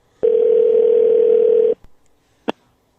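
A telephone dial tone rings out loud and steady for about a second and a half as a call is placed, then stops, followed by a faint click and a short sharp tap.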